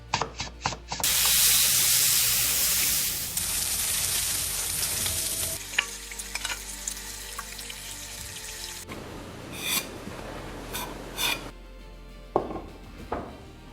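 AI-generated sound effects for a Master Chef style kitchen scene: loud, dense frying and sizzling, then stirring, bursts of running water and a few sharp knife chops on a board, cut abruptly between scenes, with no talk.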